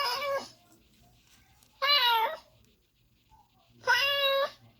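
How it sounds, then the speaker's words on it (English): Three distinct cat meows, evenly spaced with pauses between, fairly close and clear, with near silence in the gaps. "To hear a random meow from your meow library"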